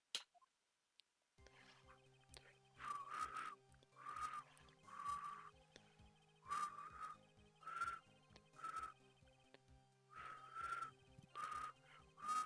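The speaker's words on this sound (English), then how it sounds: "I have bad whistling." A person whistles a tune in short, repeated, fairly faint notes, in rhythmic groups over a quiet, steady background hum.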